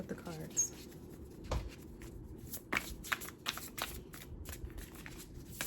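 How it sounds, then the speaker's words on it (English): A young child gathers up scattered playing cards, giving a series of soft, irregular card rustles and flicks at close range, with a few sharper slaps among them, over a faint room hum. "My daughter is trying to help pick up the cards."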